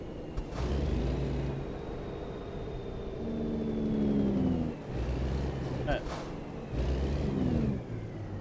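Passing road traffic in American Truck Simulator, including a pickup truck hauling a side-by-side, with steady engine drone and vehicles sweeping past in waves over a continuous low rumble.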